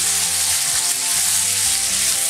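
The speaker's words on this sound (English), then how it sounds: "It's going to be nicely seared and grilled with nice grill marks." Marinated salmon sears on a grill with a loud, steady sizzle and crackle that holds evenly throughout, with no voices.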